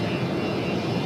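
Airplane engine from a French comedy film, a steady broad roar holding level throughout with no voices.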